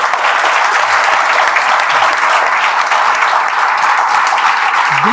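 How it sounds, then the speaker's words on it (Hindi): An audience applauding for Deepak ji, dense continuous clapping from many hands, loud and even throughout, with no talk over it. "तो एक बार दीपक जी के लिए ताली बजा दीजिए।"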